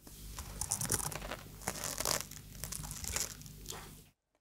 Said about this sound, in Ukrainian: Такий звук створюють щитинки, розташовані на кожному членику черевної частини тіла.